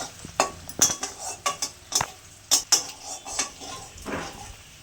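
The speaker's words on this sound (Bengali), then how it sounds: "কুচানো পেঁয়াজ দিলাম, পেঁয়াজ একটু লাল করে ভেজে নেব" Chopped onions fry in a pan for ghugni, a soft sizzle under repeated scrapes and clinks of a spatula stirring against the metal, loud and close with irregular bursts.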